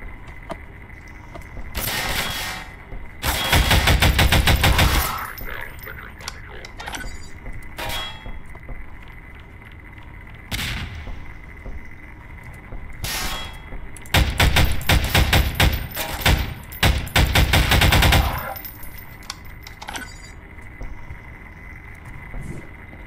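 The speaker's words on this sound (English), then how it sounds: "Who the hell is shooting at me?" Bursts of automatic gunfire and metallic clangs in Half-Life 2 mod Strider Mountain, two long loud volleys separated by scattered single shots over a steady ambient hum, with no talking.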